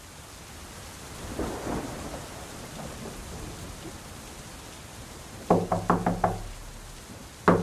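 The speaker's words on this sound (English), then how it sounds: "Come in quickly from the rain." Steady rain patters while low rumbles of thunder roll in the background, followed by a quick series of sharp knocks on a door, in the audio game Rocococo.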